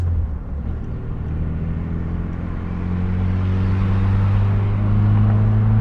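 Chrysler pony car, a modified sports coupe, driving on the road, its engine a steady low rumble that swells as it pulls harder, close and continuous with no talk.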